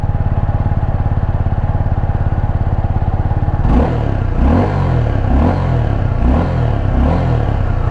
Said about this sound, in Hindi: अभी यहाँ से हम सबसे पहले इसका सुनेंगे एग्जॉस्ट साउंड, मतलब ये आइडल साउंड इसका कैसा है।